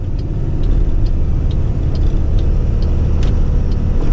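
A loaded Volkswagen 8160 truck with a dirty AdBlue filter labours under strain, its engine giving a steady, loud low rumble with faint periodic hissy ticks above it, no voices.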